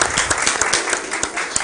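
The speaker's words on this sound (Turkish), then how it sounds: "Alkışlar." Audience applauding after a live music performance, a short burst of dense clapping from many hands, loud and continuous.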